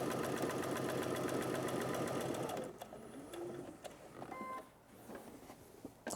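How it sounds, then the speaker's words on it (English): A sewing machine stitches a Y-seam in a fast, steady, loud mechanical whir for several seconds, then stops, leaving quieter handling noises and a few faint clicks. "let's just sew right to the other dot"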